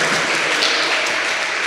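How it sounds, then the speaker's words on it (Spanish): A church congregation applauds for the Lord in a worship service, a brief, dense wash of clapping that holds steady and loud throughout. "Dele ese aplauso al Señor"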